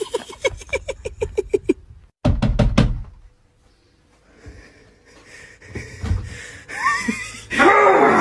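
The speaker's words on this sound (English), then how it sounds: "someone keeps knocking on the door" Sharp knocks on a door, a rapid run of about ten evenly spaced raps followed by a short burst of heavier knocks, then breathy vocal sounds and music-like noise in a pop short clip.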